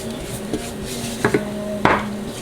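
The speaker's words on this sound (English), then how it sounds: "So you use the back of your spoon and just break it up so that it cooks, kind of smash it in" Metal spoon clinking and scraping in a pan while breaking up a thick flour roux for mushroom stroganoff, a few soft taps and one sharper knock over a low sizzle.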